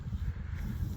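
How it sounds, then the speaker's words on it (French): Wind gusts against a microphone beside Lac d'Abio near Fermont, a constant low buffeting rumble up close with no voices. "Désolé pour le vent"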